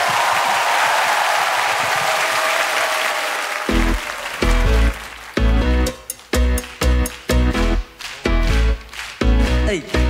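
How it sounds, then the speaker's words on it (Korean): Studio audience applause fades out over the first few seconds, then a pop song with a strong rhythmic beat kicks in and dominates the rest. "박수 부탁드려요."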